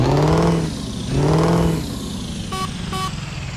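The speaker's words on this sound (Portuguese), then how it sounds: "Buzinona de trem que eu botei." A train horn fitted to a truck in Euro Truck Simulator 2 blasts twice in long, loud, harmonic tones, followed by two short beeps, over the steady hum of the truck's engine.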